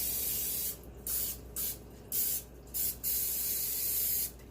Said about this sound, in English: And then I'm going to spray my other one.